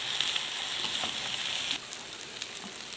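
Noodles for Jogja-style mie kakap sizzle steadily in a hot pan as they are stirred, a dense continuous frying hiss that dips slightly partway through, with no talking.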